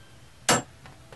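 A hammer strikes a center punch on a golf cart strut in a single sharp metallic tap, close and bright, followed by a couple of faint softer ticks in an otherwise quiet space.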